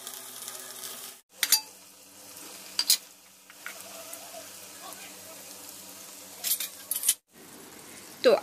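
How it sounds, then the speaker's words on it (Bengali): Battered chicken pieces go into hot oil, giving a steady background sizzle broken by a few sharp clinks and taps of a utensil. "তো আমি এবার তেলে ছেড়ে দিচ্ছি একে একে।"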